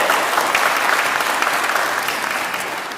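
Audience applause at a parish Christmas fête, a dense steady clatter of many hands clapping together, loud and continuous throughout with no voices over it.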